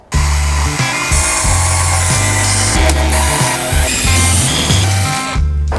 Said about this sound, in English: Let me get some holes drilled so I can start setting my anchor studs.